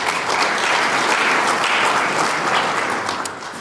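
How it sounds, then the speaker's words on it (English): A business-school summit audience welcomes a professor with loud, sustained clapping, a dense, even roar of many hands that only begins to fade at the very end. "let's give Professor Jonker a good round of applause"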